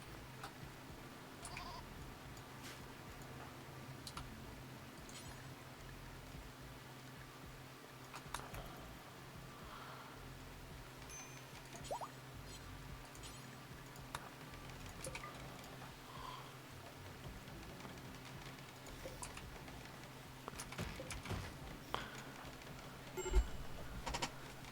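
Goats bleat now and then in a colony-building video game, quiet and distant, over a faint ticking and low background hum.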